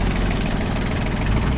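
A Yanmar AF-18 tractor with a three-cylinder diesel engine runs steadily at idle, a loud, even, low rumble with faint rhythmic knocking and no voices.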